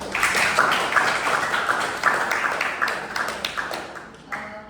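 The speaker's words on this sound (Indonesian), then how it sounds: "Tepuk tangan untuk topik pertama" Applause from an audience at an academic debate: many hands clapping together, fairly close and steady, then thinning and fading out toward the end.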